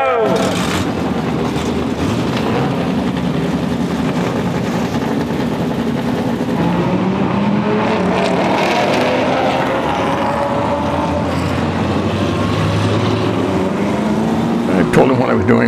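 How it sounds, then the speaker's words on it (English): Several race car engines start, rumble and rev together, rising and falling in pitch, loud and continuous with a sharp burst near the end. "Gentlemen and Susan, start your engines."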